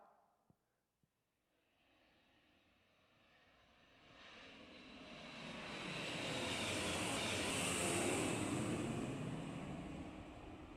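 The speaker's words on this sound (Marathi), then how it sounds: "विमानच आहे ते" A fixed-wing airplane at an airfield with company flights flies overhead: a faint distant drone swells steadily into a loud, broad engine roar that peaks near the end, after a couple of small clicks at the start.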